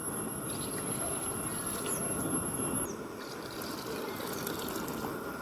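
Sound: water poured into fish curry gravy

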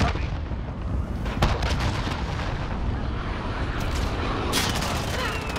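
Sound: cruise missile strike exploding in video game Call of Duty Modern Warfare

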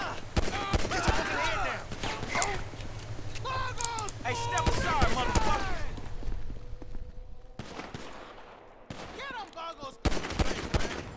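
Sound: gunfire in video game GTA V, headshots

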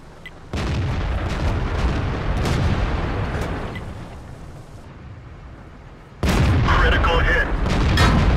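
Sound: tank cannon fire in World of Tanks video game

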